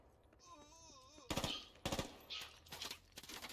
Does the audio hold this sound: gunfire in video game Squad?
yes